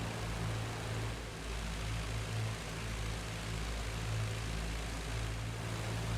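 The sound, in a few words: WW1 propeller aircraft engines in video game IL-2 Great Battles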